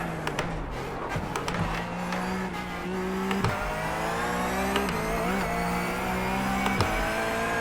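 A racing sim game's car engine drones and shifts pitch as it accelerates and brakes through corners, with steady tonal revving and brief dips at gear changes and braking points.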